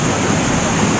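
A river rushes in a steady, loud, close wash of water with no pauses and no voices.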